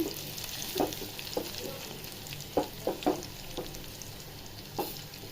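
Taro leaves fry in a pan with small dried fish, a soft continuous sizzle broken by several sharp spoon knocks and scrapes, quiet and close, with no talking.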